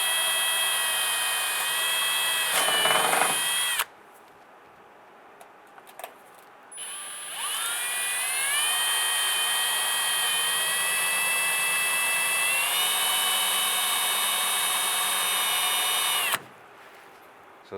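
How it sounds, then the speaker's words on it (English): A power drill boring through the plastic wheel liner and sheet metal of a 2002-2008 Dodge Ram 1500 wheel well, two long loud whining bursts with the motor pitch shifting as the bit bites, separated by a short pause, no talk. "I want to go ahead and drill out those marks. I want to go right through the liner and the sheet metal."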